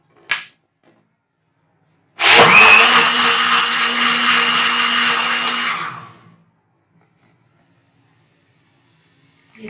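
An electric blender runs for about four seconds while mixing jamun sharbat, a steady loud whirring roar that starts abruptly and stops, with silence before and after.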